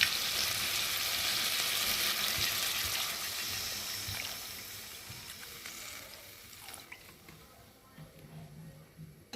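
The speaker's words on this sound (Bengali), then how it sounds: "আর এখন আমি পরিমাণ মতো জল দিয়ে দেবো।" Water poured onto sizzling fried spice masala for a prawn and taro dish sets off a loud hiss that gradually fades to a softer bubbling simmer, heard close with no talking.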